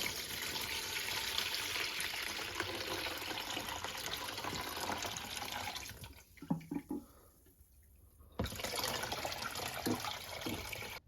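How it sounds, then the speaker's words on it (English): Homemade chicken broth poured from a pot through a cracked-open lid, a steady splashing stream of liquid that briefly stops, leaving a few drips and clinks, then resumes pouring, close and fairly quiet. "I'll just put a crack the lid on it and just pour the liquid out of it"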